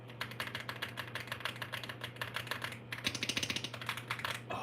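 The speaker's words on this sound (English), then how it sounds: "You definitely have a crispy keyboard." Rapid, crisp clacking of a wireless mechanical keyboard being typed on steadily, close up, with a low steady hum underneath.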